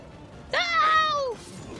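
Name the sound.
dogs barking in the video game Dragon Age: Origins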